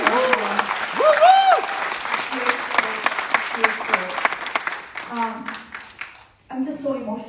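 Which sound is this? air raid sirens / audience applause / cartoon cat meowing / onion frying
audience applause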